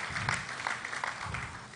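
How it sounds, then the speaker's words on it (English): An audience at a 2018 PTAD South-East stakeholders forum claps for the Executive Secretary, a brief, steady patter of many hands in a large room. "A round of applause to the Executive Secretary for that."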